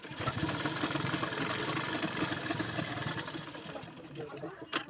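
Sewing machine stitching a strip on a size-40 katori blouse, a fast, even mechanical whirr running for about four seconds before slowing and stopping.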